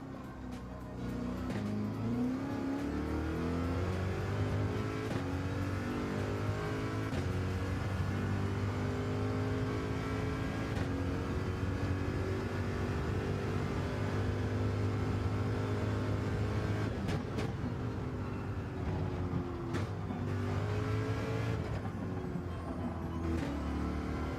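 A Gr. 3 race car screams around Suzuka in the Gran Turismo 7 video game, its engine loud and continuous, rising and falling through gear changes and corner exits with no break for the whole stretch.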